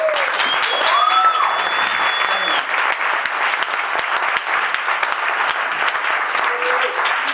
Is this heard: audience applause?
yes